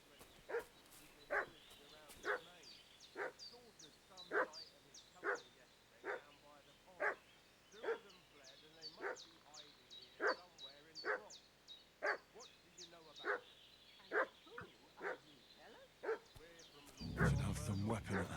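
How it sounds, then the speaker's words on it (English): A dog in the medieval game Kingdom Come: Deliverance barks steadily and repeatedly, about one sharp bark per second, at mid-distance, before a louder burst of noise at the end. "What's that dog making such a fuss about?"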